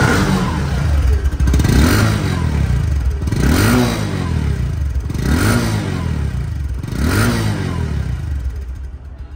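Bajaj Discover 125cc motorcycle engine, second-hand bike in showroom condition, running close by and loud, revved four times in a steady rhythm with rising and falling pitch over a continuous mechanical idle.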